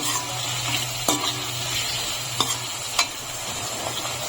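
A spoon stirs chili sauce, tomato sauce and soy sauce in a sizzling frying pan, with a steady hiss of frying throughout and a few sharp scrapes and clinks against the pan, close up and with no talking.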